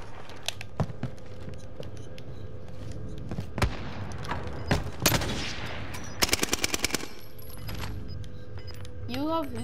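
Gunfire in a Call of Duty match: scattered single shots, then a rapid burst of about six automatic rounds, set among game sounds and the clatter of gear, with voices talking over it.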